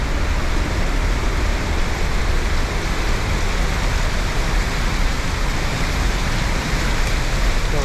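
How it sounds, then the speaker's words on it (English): Dense, unbroken roar of rushing water from a waterfall in the Ecuadorian Andes, heard from the path behind it, loud and steady throughout with no talking. "will bring us to the back of this waterfall."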